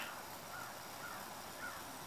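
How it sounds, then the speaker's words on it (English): Crows cawing outdoors, a few faint calls spaced through a steady wash of background noise, with no talking. "I'll leave you with the crows cawing and fade into the fire here"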